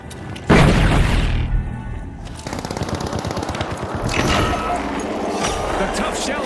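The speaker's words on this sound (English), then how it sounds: "Using blitz grenade." A blitz grenade goes off in The Finals with a sudden loud blast, followed by a crackling electrical rattle and rapid bursts of gunfire, with voices talking over the action.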